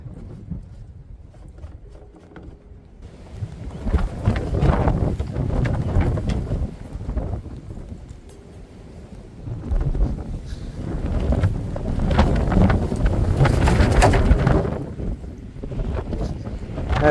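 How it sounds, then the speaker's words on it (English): Strong wind gusts outdoors in winter, buffeting the microphone in loud surging waves that rise and fall over several seconds, with no speech. "That's some wind."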